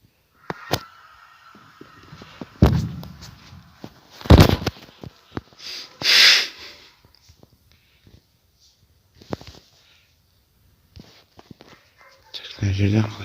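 Explosives blow apart blocks in a block-building video game: several sharp, loud bursts ring out separately, with quieter clicks and game sounds between them and a person talking over the action.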